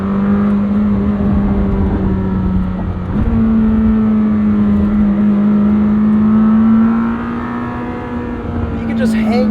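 A 2026 Lamborghini Temerario with a 907 hp V8 drones loudly and steadily from inside the car. There is a brief dip and a step in pitch partway through as it shifts gear, and the engine holds strong afterward.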